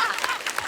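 A studio audience at a televised comedy show breaks into a brief, dense burst of clapping for the team, loud and close.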